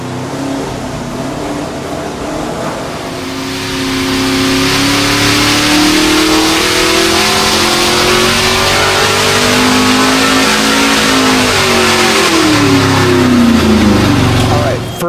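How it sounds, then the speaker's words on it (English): A 632-cubic-inch big-block engine runs on a dyno, rising from a rough idle into a loud, sustained rev with pitch climbing and falling before easing off near the end. "we got a hit, we got it running. Now we're gonna set timing, and then we're gonna make real power pulls."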